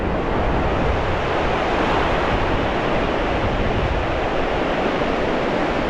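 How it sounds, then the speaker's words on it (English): Sea waves on a beach at high tide along the Bristol Channel shore at Brean, a steady, loud, close wash of surf with no breaks or voices. "the waves have sort of compressed as it's got towards high"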